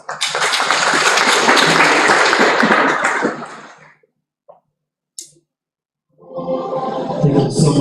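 Loud, dense applause from an audience at a student mentorship forum fills the first four seconds and fades out, followed by near silence with a couple of faint taps, then clapping swells back in near the end.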